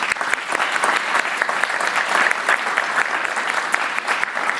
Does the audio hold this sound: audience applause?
yes